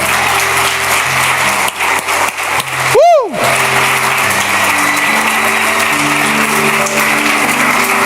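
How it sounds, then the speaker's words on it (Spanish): Church congregation applauding during a sermon, a sustained wash of clapping from many people lasting throughout, with a brief sweeping tone cutting through midway and voices underneath. "Dale fuerte el aplauso al Señor"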